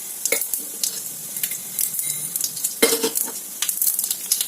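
Mustard seeds and cumin sizzle and crackle in hot oil while being cooked for a yogurt curry, with a steady frying hiss, sharp popping bursts and occasional stirring scrapes, close and fairly loud, no speech.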